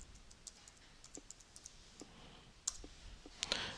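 Quiet clicks and light keystrokes on a computer keyboard as a search term is typed in, scattered irregular taps with a couple of slightly louder clicks near the end.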